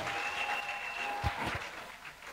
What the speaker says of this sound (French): On applaudit le chef de terre.